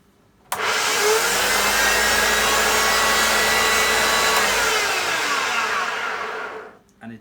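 A Hoover Junior Dirtsearcher vacuum cleaner motor, dry-sounding and in need of refurbishment, switches on abruptly and runs as a loud, steady rushing whine for about six seconds before winding down.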